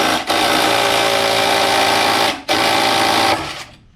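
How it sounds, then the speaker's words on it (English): Loud impact wrench hammering steadily on the flywheel nut of a 1994 Polaris SLT 750 watercraft, one long sustained burst, a brief pause, then a second burst that cuts off and trails away. "Probably gonna wind up having to use an impact on this."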